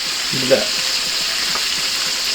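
Fried chicken sizzling steadily in a pan, a constant bright crackle of hot oil throughout with a brief knock near the start and no talk.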